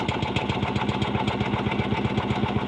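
A small carburetor engine cranks over slowly and fails to catch, its spark faulty, giving a steady, loud, rhythmic chugging pulse throughout with no voices.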